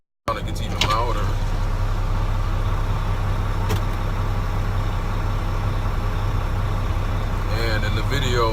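A steady low truck engine rumble fills the cab with the windows up, constant and droning throughout, with faint rattles and a brief higher whine near the end.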